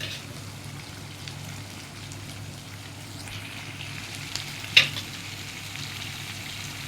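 Masala sizzles and fries in a pan over a low flame, a steady soft crackling hiss that carries through the whole stretch, with a single sharper tick near the end.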